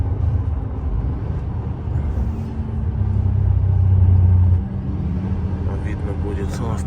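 A car heading home from Yakutsk on a snowy road rumbles steadily, with the engine and road noise swelling for a moment before dropping back, while someone talks over it.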